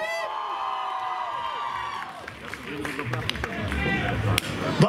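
Concert crowd at a show cheering, whooping and shouting for the band, a loud, dense wash of voices that swells toward the end with scattered claps and yells.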